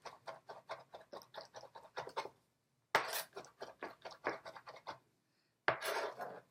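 A knife chopping and mincing olive tapenade ingredients on a cutting board, with rapid rhythmic taps and scrapes in bursts separated by brief pauses, close and clear.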